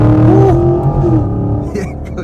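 A Chevy Camaro LT1 V8 winds down through the gears with deep exhaust burbles and pops, loud and close from inside the car, as someone talks over it.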